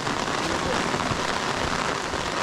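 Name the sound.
heavy rain falling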